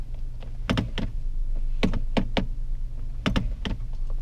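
A series of sharp mechanical clicks in small clusters as a gear selector is moved through its positions, close up over a low engine hum.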